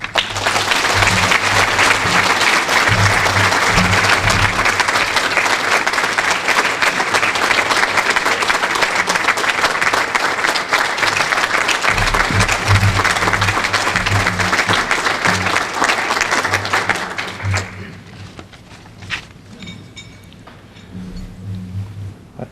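A large audience at a Citizen of the Year awards ceremony gives loud, sustained applause for the honorees for about seventeen seconds before it fades quickly into quiet room noise with a few stray claps.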